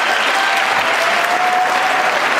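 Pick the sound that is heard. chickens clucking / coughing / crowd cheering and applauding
crowd cheering and applauding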